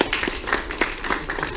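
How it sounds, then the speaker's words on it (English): Audience applause at the Aerotech 2018 aerospace conference, a steady patter of many hands clapping in a hall, brief and moderately loud. "Let us give a round of applause"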